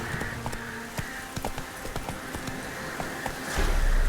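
Hooves clop in a quick, steady rhythm as a horse gallops in The Witcher 3, close and fairly loud, and a louder rumble swells near the end.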